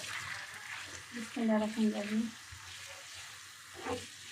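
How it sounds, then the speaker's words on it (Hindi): Small cubes of chicken fry over high heat in a pan, a steady sizzle under a voice speaking, with occasional stirring scrapes close by. "अब चिकन को इतना मैं कुक करूँगी कि चिकन का कलर चेंज हो जाए"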